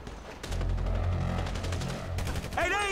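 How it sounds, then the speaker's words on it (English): Rapid gunfire in a GTA V heist shootout, a dense burst of automatic shots running steadily for a few seconds, loud and close, with a character's voice shouting briefly near the end. "We're receiving fire!"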